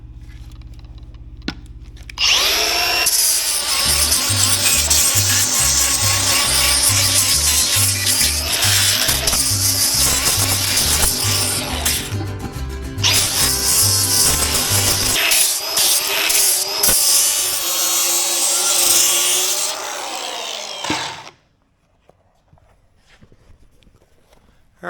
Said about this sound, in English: I got one sanded down